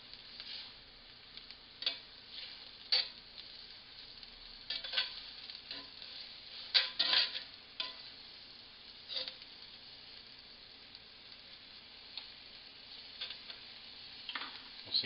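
Bacon bourbon meatballs fry in oil with a faint, steady sizzle and scattered small pops and crackles, close by and without talk.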